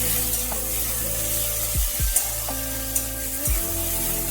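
Chopped tomato sizzles in a pan with bitter gourd, a steady close hiss broken by a few low scraping strokes of a spoon stirring through the mix.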